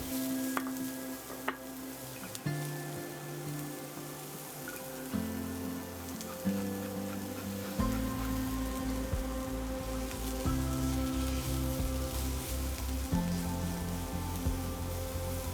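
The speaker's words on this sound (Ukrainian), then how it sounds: "На гарячу пательню додала олії і висипаю цибулю." Onion sizzles steadily in hot oil in a frying pan, a continuous crackling hiss with occasional stirring sounds and a low background hum.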